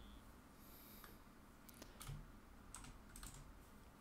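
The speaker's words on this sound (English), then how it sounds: "I'm typing in the predictions." Keys on a computer keyboard tap in a few quick, light bursts, very faint and close against a quiet background hiss.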